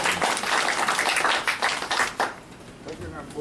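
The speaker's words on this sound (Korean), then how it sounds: "박수 한번 가져주시죠" A rally crowd at a political protest applauds, many hands clapping loudly at first, then thinning and tapering off toward the end.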